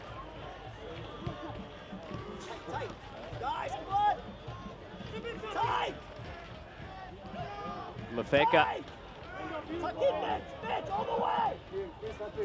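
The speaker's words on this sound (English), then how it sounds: "in front of a noisy crowd here at Laney" Noisy stadium crowd at a soccer match between Oakland Roots SC and San Antonio FC at Laney in Oakland on Pride Night, a steady babble of supporters with occasional swells, mostly under close commentary speech.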